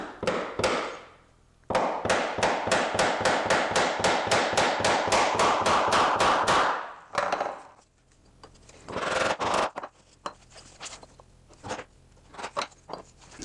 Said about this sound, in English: by just placing this directly down in that mortise hole in the template and tapping it with a plastic mallet